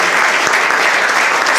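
An audience at an art opening reception breaks into loud, sustained applause, dense clapping filling the room without a pause.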